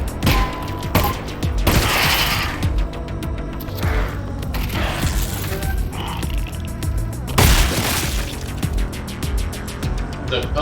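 Gunshots ring out in Half-Life: Alyx, played in VR: scattered sharp blasts with mechanical clanks and reloading sounds between them, two louder bangs standing out among the game noise.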